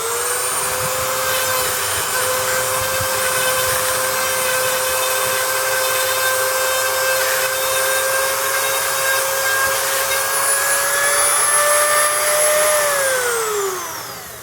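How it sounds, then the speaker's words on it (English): A Dremel rotary tool fitted with a small piece of sandpaper grinds the end of a galvanized fence pole, a steady high-pitched whine held for several seconds before it winds down at the end. "That's a smaller piece of sandpaper for the Dremel tool."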